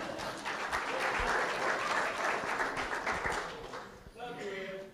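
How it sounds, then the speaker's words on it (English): A church congregation breaks into loud, sustained applause that fills most of the moment, then fades as a voice starts speaking near the end. "give yourselves a round of applause"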